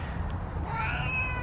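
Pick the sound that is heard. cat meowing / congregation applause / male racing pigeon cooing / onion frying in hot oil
cat meowing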